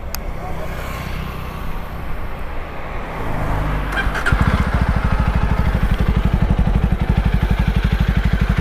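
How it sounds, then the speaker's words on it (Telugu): A Jawa 42 motorcycle with twin left and right exhausts fires up and settles into a steady, throbbing idle, a rapid even thump close by and fairly loud against outdoor background noise. "సో ఒకసారి మనము ఇంజన్ ఆన్ చేద్దాం."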